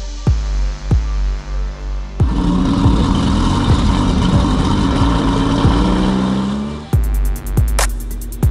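Supercharged Lamborghini Huracan LP610 with a K-Line valvetronic catback exhaust, loud and close: sharp revs and pops at the start, a sustained high-rpm roar for several seconds, then more short revs at the end.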